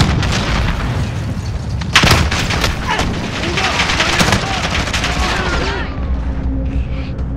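An explosive detonates in Call of Duty: Modern Warfare amid a loud, continuous din of gunfire and booming blasts, with a heavy impact partway through and shouted voices under the chaos.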